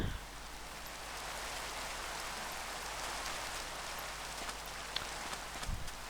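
Rain falling in the Minecraft video game, a dense, even hiss that holds steady for several seconds with a few faint taps near the end.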